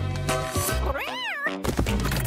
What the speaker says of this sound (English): Oh, look, it's a cute little kitty cat.